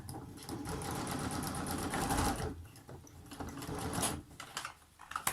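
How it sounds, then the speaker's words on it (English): Sewing machine back stitching through upholstery fabric for a wine bottle gift bag, a steady close whirring hum of rapid needle strokes that slows and stutters briefly toward the end. "So just back stitch here."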